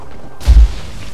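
Explosions in the video game Trine 2: one loud, deep boom burst about halfway through, with a short rumbling tail fading into quiet background.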